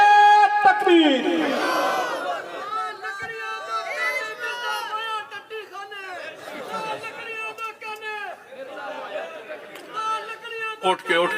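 Crowd at a religious conference shouting slogans together in loud, repeated bursts, with the massed voices rising and falling over about ten seconds and a lead voice calling between them.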